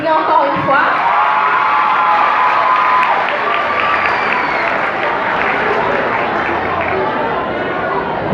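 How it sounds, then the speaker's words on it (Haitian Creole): An audience at a school eloquence tournament in Haiti breaks into loud applause mixed with cheering, whoops and children shouting, a dense, continuous crowd roar with voices carrying over it. "nous applaudit encore une fois."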